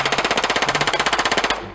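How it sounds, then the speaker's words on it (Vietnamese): A P90 submachine gun firing a rapid continuous burst at a shooting range, about twenty sharp evenly spaced shots in quick succession, loud and close, ending abruptly. "Cái tốc độ xả đạn của cái súng P90 rất là nhanh nhá."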